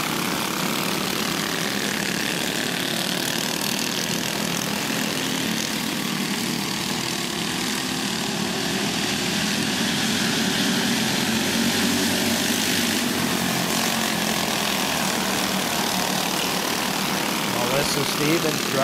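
Go-kart engines buzz in a steady, droning whine during a 55-lap backyard go-kart feature race. The engine noise is continuous and fairly loud, with a commentator talking over it.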